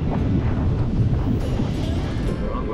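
Strong wind outdoors in Ushuaia batters the microphone with a loud, continuous low rumble and buffeting that fills the whole moment.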